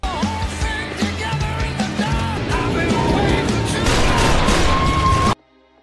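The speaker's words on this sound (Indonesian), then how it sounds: "Pelaku sempat melepaskan tembakan" A chaotic action scene with bursts of gunfire, booms and crashes over dramatic music, loud and dense, ending abruptly.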